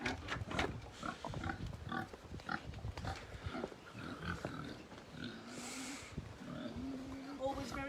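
Pigs grunt and snuffle around a field at a farm wedding and event venue, with low irregular grunts spread through the clip under steady outdoor noise and some nearby voices.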